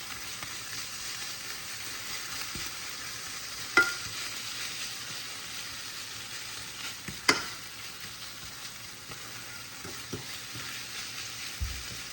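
A fork stirs and crumbles food in a pan over steady low sizzling, with a few sharp scrapes and clinks against the pan, faint and close, with no talking.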